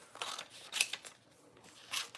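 Scissors cut paper for a collage, a few separate crisp snips with dry crunching between them, close and clear with quiet pauses and no talk.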